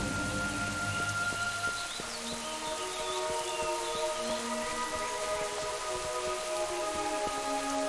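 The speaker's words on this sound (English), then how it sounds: "I always like the raining effects in World of Warcraft." Steady rain in a World of Warcraft forest zone, Elwynn Forest: continuous pattering downpour with scattered drop taps, even and fairly loud, joined by soft tonal game music and no talking.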